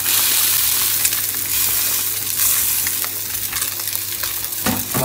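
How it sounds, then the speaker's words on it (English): A seabass fillet pan-fries skin side down, a loud, steady sizzle and crackle that continues the whole time, with a few brief spits near the end. "the key to frying flat white fish, or most fish, is don't mess around with it too much"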